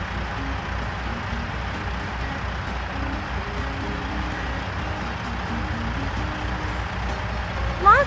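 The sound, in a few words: garbage truck with reversing beeps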